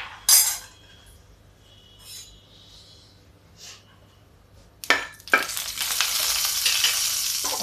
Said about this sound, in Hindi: ये देखिए तेल गरम हो गया है। इसे 1 चम्मच हम जीरा डाल देते हैं।